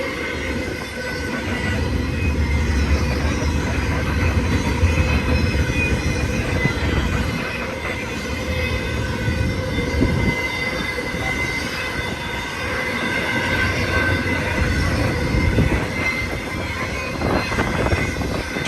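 A fast BNSF intermodal Z train cresting Cajon Pass summit, hauling containers and trailers on spine cars; a loud, steady rumble of rolling cars with wheel squeal runs continuously, close by, with no voices.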